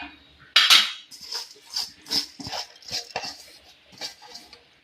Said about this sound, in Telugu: పాలు వేసుకుని ఇలా గడ్డ కట్టకుండా ఇలా తిప్పుకోవాలన్నమాట